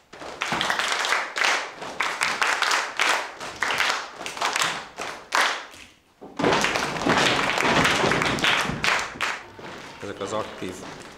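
Children clap their hands in a steady rhythmic pattern during a Waldorf school music lesson, loud and close, with a brief pause partway before the clapping resumes, and voices are heard speaking alongside.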